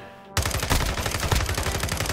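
Call of Duty: Modern Warfare 2 gunfire erupts after a brief quiet lead-in, then rapid automatic shots crack loudly and continuously in a dense, steady burst.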